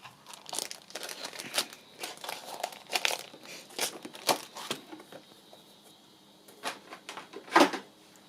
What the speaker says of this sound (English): Just tear that off.